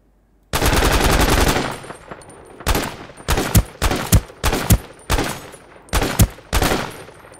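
Rapid machine-gun bursts from a mobile battle royale shooter game: one long loud volley, then a string of short, sharp, close bursts at irregular intervals.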